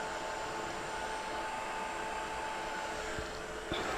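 Steady broadband roar of a heat tool blowing over embossing powder, loud and continuous like a hair dryer, with a faint tap near the end.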